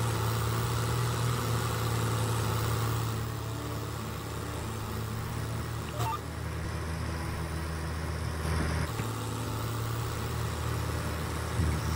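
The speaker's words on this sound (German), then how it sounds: "Ich mag diesen Traktor." Tractor engine in Farming Simulator 22 running steadily while fertilizing meadows, a continuous mid-pitched idling drone with slight shifts in tone, alone without talk.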